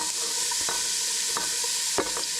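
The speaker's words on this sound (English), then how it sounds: "So now I'm heating up my skillet or pot, and once that heats up, I'm gonna add the onion and garlic and saute that." Onion and garlic sauté in a skillet at a woodland tent campsite, giving a steady, close sizzle with a few sharp stirring clicks and scrapes.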